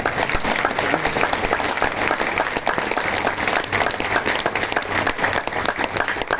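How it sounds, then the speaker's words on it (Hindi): A congregation at a Hindu ashram discourse on Gita Jayanti claps loudly and continuously, a dense, close ovation filling all six seconds without pause. "नहीं ताली बजेगी आपसे।"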